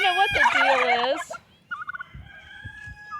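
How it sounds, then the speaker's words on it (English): Turkeys gobble loudly and close by in a rapid warbling burst, then quieter clucks and calls follow over light background noise. "The turkeys are beautiful."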